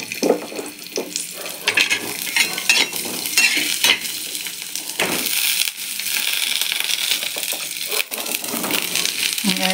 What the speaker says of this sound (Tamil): அடுத்து வெங்காயம் தக்காளி வதக்கலாம்.